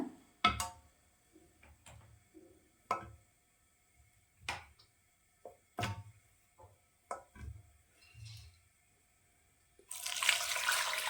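Scattered clinks and knocks of kitchen utensils while cooking goat trotter curry, then a steady rush of water pouring into the cooking pot near the end, fairly quiet overall.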